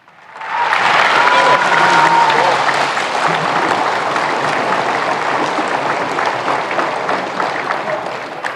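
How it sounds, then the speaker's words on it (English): Arena crowd applauding at a college men's basketball game, UH Mānoa versus Central Arkansas at the Stan Sheriff Center; dense, sustained clapping fills the hall from start to finish, swelling early and then holding steady. "And a nice round of applause."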